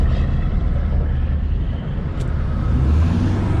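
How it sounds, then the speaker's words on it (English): A 2004 Ford Mustang GT with a stall converter drives with its windows down, and a loud, steady, low engine drone fills the cabin without a break and without any talk. "I got the windows down so y'all can hear the sound of the car"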